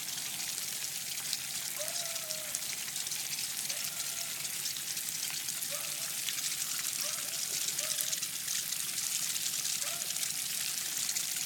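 Water rinses down a bike in a continuous, close hiss of spray that never breaks, with a few faint squeaky chirps surfacing above the rush.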